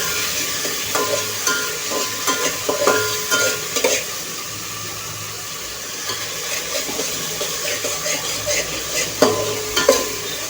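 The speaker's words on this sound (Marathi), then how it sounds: "आलं लसूण पेस्ट टाकायची आहे, जी आपण पेस्ट करून घेतली होती अद्रक लसूणची. ती पण कांद्यासोबत परतून घेऊया." Ginger garlic paste fries with onions in a pan, giving a steady close sizzle with intermittent scraping and stirring clatter from a utensil, moderately loud, with no voices.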